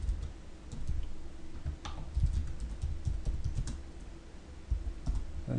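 Keys clatter on a computer keyboard as a search is typed in, a quick, uneven run of close, light clicks that keeps going for several seconds with no talking over it.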